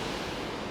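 A large waterfall at Mount Lassen roars as a steady, dense rush of falling water, loud and close, with no voices over it.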